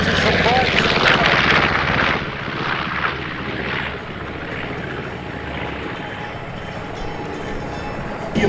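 A North American B-25 Mitchell bomber makes a low-level pass at an airshow, a loud, steady rumbling piston-engine roar that slowly fades as a voice narrates over it.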